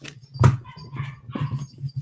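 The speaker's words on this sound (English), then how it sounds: "the puppies are going crazy downstairs" Puppies yap and whimper from somewhere downstairs in a house, giving a few short muffled barks and bursts of excited noise at moderate distance, with no speech.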